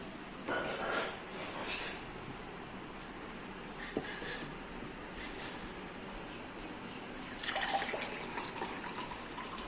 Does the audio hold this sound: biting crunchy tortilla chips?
no